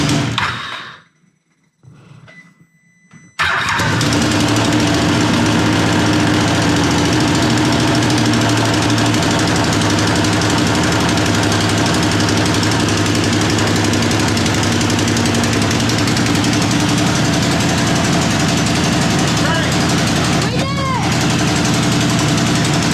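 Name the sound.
Can-Am engine running rough with exhaust leaks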